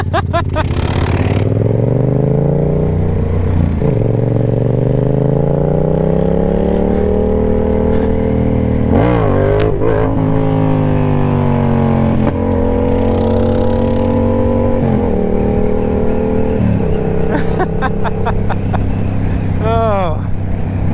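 A Yamaha FZ motorcycle engine revs hard and steady while being ridden, rising and falling in pitch through gear changes over about twenty seconds, loud and close throughout.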